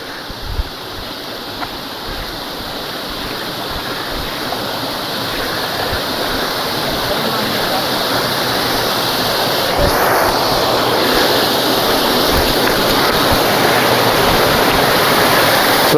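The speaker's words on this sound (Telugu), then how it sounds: "ఇక్కడ సిమెంట్ పైపులు పెట్టి కట్టేసారు, పైనుంచి గుట్ట నుంచి వస్తాయి వాటరు." Clean water pouring from cement pipes laid down a hillside in a mining area, a loud, constant rushing wash that stays steady and close throughout with no voices.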